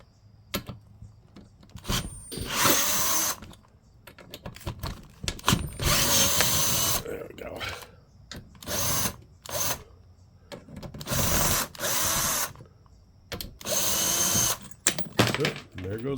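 A 12-volt Bosch power drill whirs in repeated short bursts while loosening bolts on a Secretlab Titan 2020 gaming chair, with pauses and brief talking between runs.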